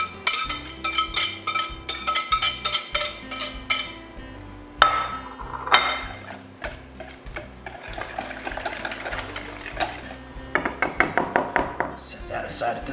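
A whisk taps and scrapes rhythmically against a bowl while Spam, onions and other casserole ingredients are mixed, with clinking strokes coming in bursts and music playing underneath.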